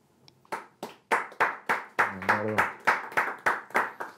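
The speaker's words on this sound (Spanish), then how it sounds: "Un aplauso." Loud, distinct hand claps in a slow, steady rhythm, close by, with a brief voice murmuring in the middle.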